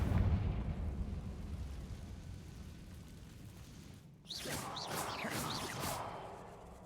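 A Confringo fire spell cast in Hogwarts Legacy lands as a sudden explosive burst after a quiet ambient stretch, then crackles and whooshes on with sharp chirping flares, at moderate volume.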